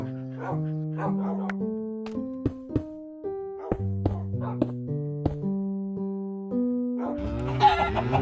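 Blocky Minecraft chickens cluck in short clicky bursts throughout, scattered over steady stepped game music, growing busier and louder near the end.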